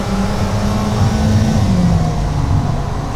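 A dual-clutch Alfa Romeo 4C Spyder engine drones steadily from inside while driving, with a low rumble and a pitch that rises and then eases down as the car pulls.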